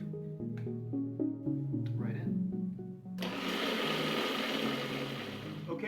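A food processor starts up partway through and whirs loudly and steadily as it blends a salad dressing while olive oil is drizzled in through the feed tube, after a stretch of quieter tonal sound.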